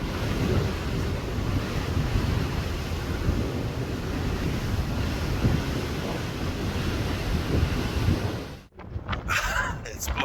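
Strong wind buffets the coast at Seydisfjordur, Iceland, a steady loud roar with rushing surf-like noise that drops out abruptly near the end, leaving brief gusty bursts.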